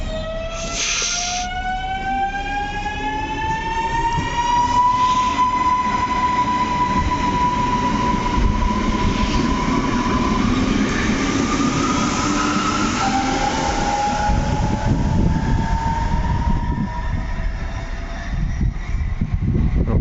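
An ŁKA passenger train at Łowicz Główny station rolls past steadily, with continuous wheel and rail rumble and rising whining tones from the drive throughout, fairly loud and close.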